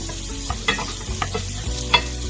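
Bacon and garlic frying in a pan for a Jack Daniels burger, giving a steady close sizzle with a few soft stirring knocks and scrapes, no talk.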